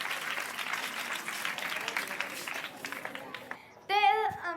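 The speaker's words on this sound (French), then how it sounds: "Applaudissez-la bien fort," An audience applauds a woman invited on stage at a climate event, a dense sustained clapping that slowly thins, with a voice speaking near the end.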